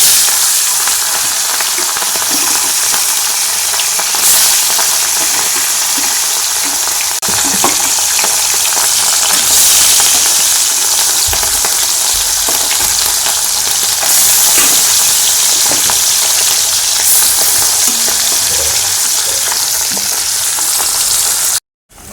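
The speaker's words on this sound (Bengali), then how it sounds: "কড়ার তেল গরম হয়ে গেছে আর এবার মাছগুলো আমি ভাজা করব" Fish frying in hot oil in a kadai, a steady close sizzle and crackle running unbroken for the whole stretch, with faint stirring scrapes and no voices.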